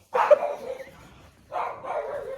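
A dog barks at a white fluffy dog in two loud, close bursts separated by a short pause, with no talk over them.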